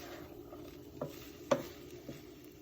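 A spatula stirs and scrapes salmon fried rice around a pan, a few soft knocks and scrapes over a quiet, low sizzle.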